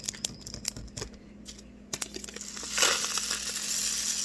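A homemade rain stick is turned: a rattling, crunchy scatter of small grains and bits tumbling inside a tube, with irregular clicks building into a steadier hiss of pouring.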